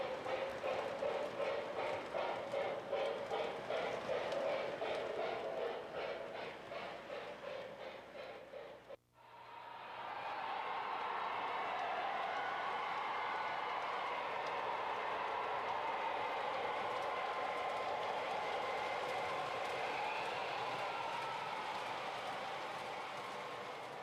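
MTH O-gauge model train locomotives, Premier and Railking lines, run steadily along track with a continuous rolling rumble and rapid clicking, broken by a brief dropout before resuming at an even, moderately loud level.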